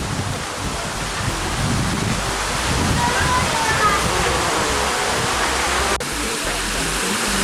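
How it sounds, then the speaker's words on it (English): Large multi-spouted fountain with a statue at Peterhof Palace in Russia, a loud, steady rush of falling water filling the scene without a break. "the fountain has like many spouts and has a statue"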